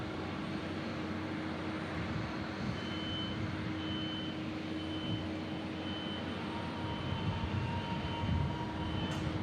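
An American Airlines jet departs a runway at Omaha Eppley Field bound for DFW, its engine noise a steady, distant broadband roar holding level throughout, with a faint tonal whine and intermittent beeping from ground vehicles nearby.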